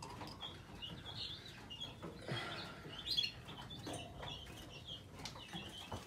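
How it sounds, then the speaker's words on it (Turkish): Yorkshire canaries and their fledged chicks chirp in an aviary, with a steady mix of light, high tweets and brief calls, moderately close and continuous, with a few louder bursts and some wing flutter. "Burada da diğer tarafta da bu tarafta yine Yorkshire cinsi kanaryalarımız var."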